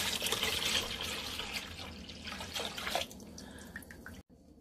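Jamaican sorrel drink is poured into a container, a steady liquid splash that trickles into drips near the end before a brief pause.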